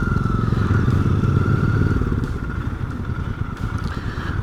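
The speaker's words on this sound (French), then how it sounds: "J'aime beaucoup la sonorité du moteur." A Royal Enfield Bear 650 motorcycle engine rumbles steadily up close, a loud, continuous throbbing idle with a fine mechanical clatter and no speech over it.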